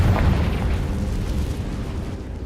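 Confringo fire spell explosion in Hogwarts Legacy, a loud sustained blast with a deep rumbling roar that holds steady throughout without fading.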